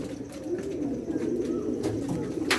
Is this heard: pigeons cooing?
yes